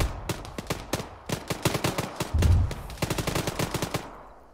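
Machine gun fire in a military video game rattles out in repeated close, loud bursts of rapid shots, with brief gaps between volleys and no voices.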